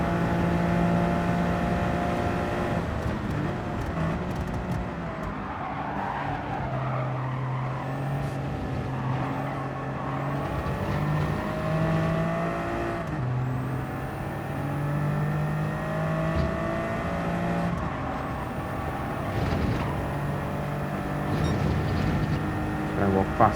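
A race car engine in Gran Turismo 7, from the Toyota Gazoo Racing GT Cup, holds steady revs with throttle being managed off a standing start, a continuous loud droning hum with shifting pitch and other cars nearby.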